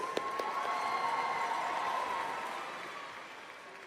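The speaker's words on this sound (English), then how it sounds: "Let's give one more round of applause to our Star Administrator finalists." A convention audience applauds the Star Administrator finalists with a sustained, moderately distant wash of clapping that slowly tapers off, with a faint tone running underneath.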